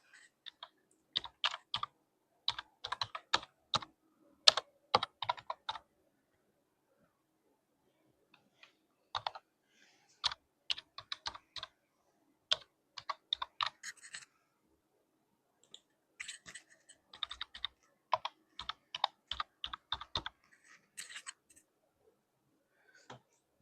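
Typing on a computer keyboard while filling in an online admission registration form, heard as quick bursts of close, crisp key clicks separated by pauses in an otherwise quiet room.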